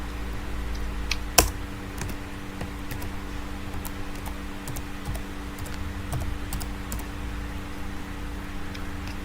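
Computer keyboard keys clicking in short bursts of typed commands at a terminal, fairly close and steady over a constant electrical hum, with no talking.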